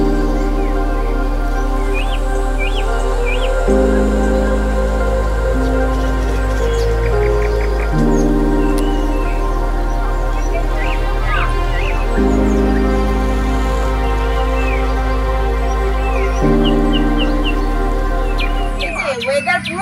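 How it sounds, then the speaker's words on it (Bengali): Birds calling from green trees in hilly Mahabaleshwar, scattered chirps and short tweets over a steady low hum, moderately near, with a faint voice underneath. "চারিদিকে সবুজ গাছগাছালির মধ্যে থেকে পাখিদের কলকাকলি শুনতে শুনতে আমরা দুজনে এগিয়ে চললাম।"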